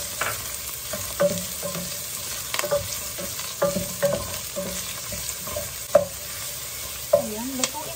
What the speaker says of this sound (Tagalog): Ngayon ay gigisa ko na ang aking sibuyas.